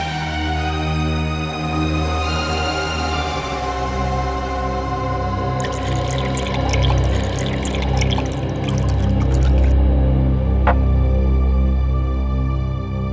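Water poured into a glass in an indoor household scene, a steady liquid pour running for several seconds over a low background hum, with a brief clink near the end; no one speaks.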